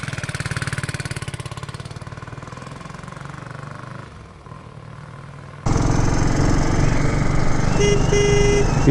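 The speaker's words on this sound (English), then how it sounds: "Even the horn works good." A 1967 Harley Davidson Sprint motorcycle's engine idles, then its horn sounds in a loud, sustained blast that carries through to the end, close by over the running motor.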